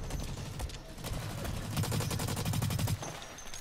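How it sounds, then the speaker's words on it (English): Rapid gunfire from a multiplayer shooter video game, bursts of shots running through the whole short stretch at steady loudness, growing denser and more rhythmic near the end. "I was shooting that guy."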